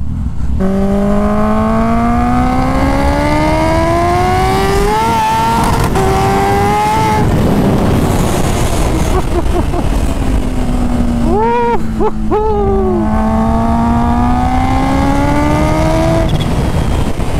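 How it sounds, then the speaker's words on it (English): A loud Kawasaki Ninja H2 sport motorcycle engine revs up and down close by, its pitch climbing and falling repeatedly with sharp throttle blips in between. "It's such a savage bike. This bike makes so many cool noises."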